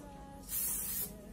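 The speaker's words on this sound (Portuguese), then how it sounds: "Vou untar com o desmoldante, que é muito bom." A short spray of release agent from an aerosol can greasing a cake pan, one close, loud hiss lasting about half a second, no talking.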